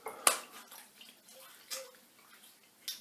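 Wet swishing and clicking of a shave brush working W&B Wedge Klar Mandel shave soap into lather, a few sharp close splashes and soft squishy strokes in a quiet bathroom.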